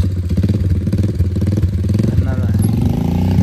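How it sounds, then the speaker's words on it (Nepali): A motorcycle engine idles with a low, steady rumble, then revs gently as the bike is turned around on a hillside road in Bhojpur, Nepal. The engine sound is close and continuous throughout. "मैले बाइक घुमाउँदैछ"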